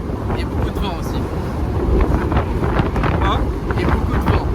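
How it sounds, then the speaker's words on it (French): Strong wind buffeting rushes steadily past the open cockpit of a Morgan Roadster driven along small roads, loud and continuous, with a person talking over it. "Et beaucoup de vent aussi."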